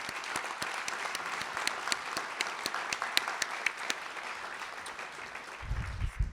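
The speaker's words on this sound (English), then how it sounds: "Let's give them all a round of applause." Steady audience applause at the close of a talk, dense and even with scattered sharper claps standing out, holding for several seconds before a low rumble enters at the end.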